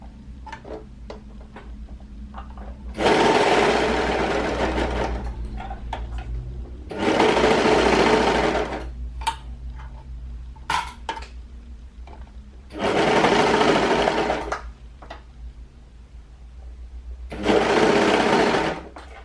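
Overlocker stitching fabric for a sweater dress in four loud, steady whirring bursts separated by pauses, with quiet clicks and handling sounds in between.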